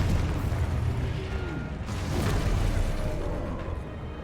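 Confringo fire spell blast in a Harry Potter video game, a muffled explosive boom with a rumbling burst over a low background of game noise.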